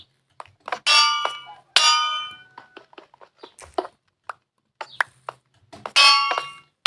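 Metallic anvil clangs in Minecraft, a few loud ringing strikes spaced apart with bright sustained tones, among quick clicks and short taps, then a final ringing clang as the anvil breaks.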